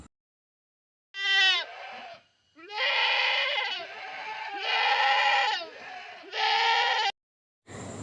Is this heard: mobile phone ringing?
no